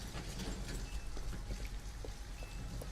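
Steady rain pours down in the video game Detroit: Become Human, a dense continuous hiss of drops on surfaces with low rumbling underneath, holding at an even level throughout without any voices.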